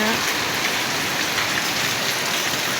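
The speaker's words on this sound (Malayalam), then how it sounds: "ഇന്ന് എന്താണോ പെട്ടെന്ന് നല്ല മഴ" Heavy rain pours steadily, a dense, even hiss of drops drumming on surfaces throughout.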